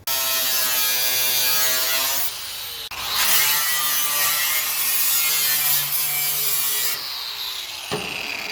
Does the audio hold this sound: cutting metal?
yes